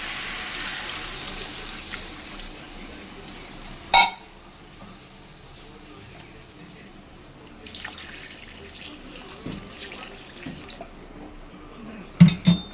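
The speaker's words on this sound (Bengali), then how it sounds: "কষানো হয়ে গেছে, জল দিয়ে দেবো।" Water runs from a tap and splashes into a pan while fish curry with pointed gourd is cooked, with a couple of clanks of metal pans and a short stream of pouring near the end.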